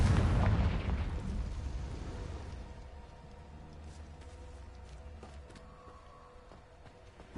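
A Confringo blast spell explodes in Hogwarts Legacy, a loud booming burst at the start that rolls off into a long, fading rumble with scattered faint crackles and debris.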